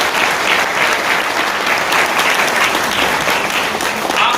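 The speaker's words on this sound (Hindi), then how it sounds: "एक बार हमारे रवि भैया के लिए जोरदार तालियां हो" A crowd at a motivational success-story event gives loud, sustained applause for Ravi, a thick, even wash of clapping throughout.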